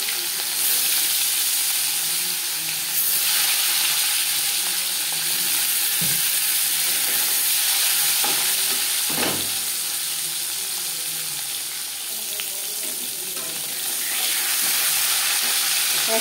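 Marinated hilsa fish frying in hot mustard oil for ilish macher jhal, a loud continuous close sizzle with occasional sharp pops and a few brief knocks of utensils.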